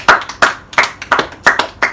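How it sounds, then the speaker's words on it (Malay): Students in a classroom clap together in a few uneven bursts of claps, close by and loud, with no talking over them. "Berikan tepukan untuk diri masing-masing."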